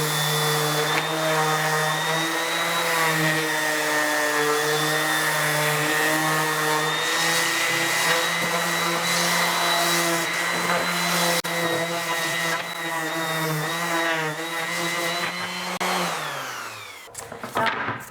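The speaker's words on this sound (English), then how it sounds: "I'm sanding the faces and also I'm kind of picking it up and softening those really sharp corners." A power sander works over the faces and sharp corners of wood pieces for a porch leaner sign, giving a loud, steady motor whine with shifting pitch that runs continuously for about seventeen seconds before cutting off.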